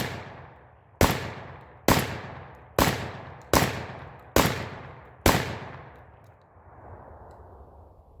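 Panzer EG200 shotgun firing buckshot rounds: six loud, sharp blasts about a second apart, each trailing off in a reverberant decay, then a fading wash of echo with no talking.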